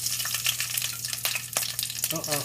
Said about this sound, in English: obviously there's oil, olive oil plus sesame oil. Add some chilies to it.